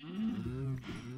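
A cow in the video game Minecraft lets out one drawn-out, close moo lasting about a second, with no talking.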